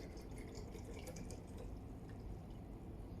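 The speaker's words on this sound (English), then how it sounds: "Then we fill the mineral water to the UV control box." Mineral water poured into the UV control box of a Focus Inc Combo Jet printer, a steady close trickle and light dripping of liquid filling a container without pause.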